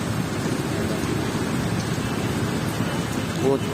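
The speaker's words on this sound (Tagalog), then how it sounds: "Ayan, ang lakas ng ulan." Heavy rain pours steadily during a stormy trip, a dense unbroken hiss of drops drumming on surfaces close by, loud and constant throughout with no gaps.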